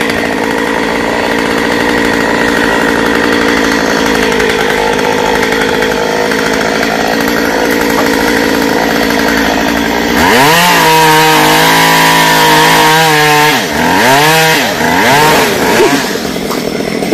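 A chainsaw cuts into a fruit-laden star apple tree being topped, its engine droning steadily and loud, then bogging and revving in repeated swoops as the chain bites through the wood, with no talking.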